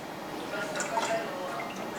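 Hot preheated cooking oil ladled over pork belly for lechon kawali crackles and sizzles softly, with faint bubbling and drip-like pops close up for a couple of seconds.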